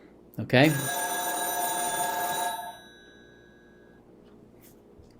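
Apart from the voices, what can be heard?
telephone ringing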